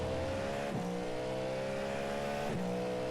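A Cadillac GT race car in the iRacing simulator runs at full throttle on the Le Mans circuit, its engine a loud, sustained high-revving drone broken by two quick upshifts that drop the pitch before it climbs again.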